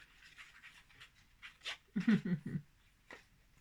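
A small dog pants softly nearby in a quiet room, quick faint breaths in a loose rhythm, followed by a few louder whiny vocal bursts.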